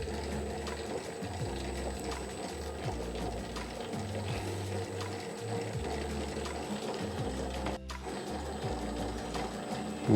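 A Molino Dallagiovanna IM5S spiral mixer kneads a heavy load of dough at 63% hydration, giving a steady, rhythmic mechanical churning and clicking with no talk.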